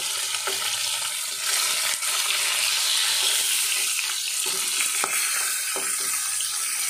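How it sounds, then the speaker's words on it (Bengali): Fish frying in hot oil in a home kitchen, giving a steady loud sizzle with occasional crackles and spatters, continuous for several seconds with no talk. "আর এদিকে মাছ ভাজা চলছে"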